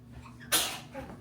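A single sharp sneeze bursts out close by in a quiet home, loud and breathy, followed by a soft exhale.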